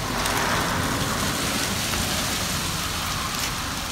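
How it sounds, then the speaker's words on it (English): Heavy rain falls steadily on a roof, making a dense, even hiss that continues without a break, with no voices. "it's raining pretty good out here."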